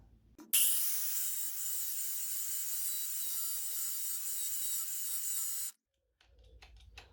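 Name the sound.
4-inch battery angle grinder cutting through a lock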